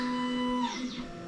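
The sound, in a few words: 3D printer printing robot parts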